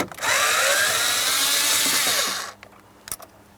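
A power screwdriver backs out a Phillips head mounting screw on a 2008-2016 Chrysler Town & Country cruise control switch, one loud continuous whirring burst of about two seconds, then a few small clicks.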